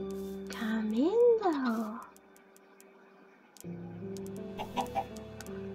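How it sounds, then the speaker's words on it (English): Minecraft chickens cluck in a rising, warbling burst, then fall quiet before more soft clucks return, with a steady game background hum underneath. "Come, chicken."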